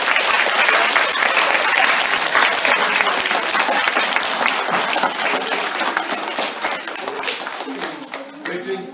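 Loud, dense applause from children, staff and guests at a primary school reception-class music performance, sustained for several seconds and slowly thinning toward the end.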